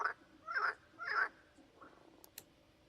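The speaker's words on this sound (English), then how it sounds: "I like the frogs." Frogs croak at a pond in three loud, rasping calls spaced about half a second apart, followed by a softer croak and a couple of brief faint clicks.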